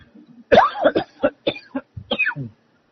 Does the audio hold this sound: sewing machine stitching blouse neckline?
no